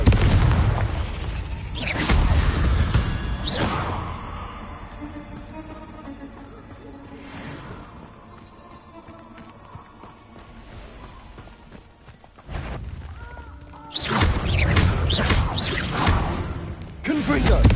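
Confringo fire spell blasts in Hogwarts Legacy, several loud bursting explosions with whooshing tails, two in a quick pair early and another heavy cluster near the end, separated by quieter combat sounds and occasional speech.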